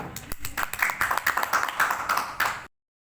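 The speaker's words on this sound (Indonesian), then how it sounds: "Tepukan untuk Dina." An audience breaks into brisk clapping at a health talk, a run of quick overlapping claps at moderate level that stops abruptly.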